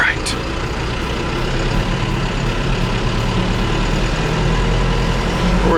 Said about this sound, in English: Now it's time to activate the PTO and turn on our blades.